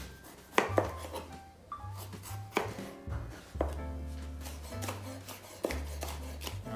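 A knife chops an orange pepper on a cutting board in distinct close, loud thunks, about a dozen uneven strokes with brief pauses and low hum between them.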